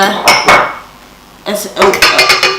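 Sugars for pumpkin spice cupcakes whisked in a bowl, loud close clattering strokes of the whisk against the sides in two bursts separated by a brief pause.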